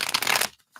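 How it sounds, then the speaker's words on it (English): Tarot cards riffle and slide in a quick shuffle before a live reading, a close, soft papery burst lasting under half a second, followed by near silence and a faint tap. "Let's give you a quick shuffle."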